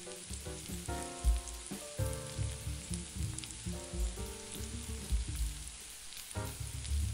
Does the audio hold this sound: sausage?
yes